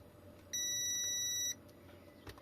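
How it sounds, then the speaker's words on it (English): A multimeter beside a teardown of an EGO 56V 5Ah battery gives a single clear electronic beep about a second long as it switches off, in a quiet room. "Multimeter turned off, really helpful."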